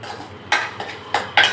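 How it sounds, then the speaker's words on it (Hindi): Spices tempering in a hot pan before potatoes go in, heard as sharp metallic scrapes and clinks of a spoon against the pan, four distinct strokes at irregular intervals over a soft sizzling background. "तो पहले तड़का पा लेती हूँ"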